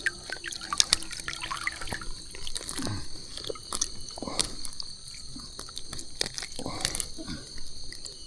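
Water splashes and gurgles as a camera dips into a river while fishing nets are checked, with close, irregular sloshing and dripping that continues under occasional talk.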